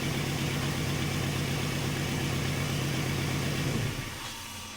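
A Willys wagon with a freshly swapped LS V8 idles steadily and loud up close, a rough low rumble that drops off and quiets near the end.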